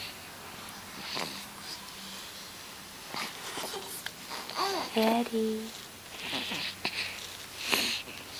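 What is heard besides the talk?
dog snoring while asleep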